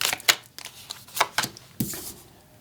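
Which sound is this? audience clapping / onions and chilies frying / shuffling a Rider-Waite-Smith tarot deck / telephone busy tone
shuffling a Rider-Waite-Smith tarot deck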